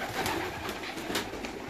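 Pigeons in a large loft coo and rustle in a short, close burst, several soft calls overlapping with faint wing flutters.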